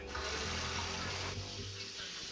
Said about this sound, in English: Okay, we need some water running.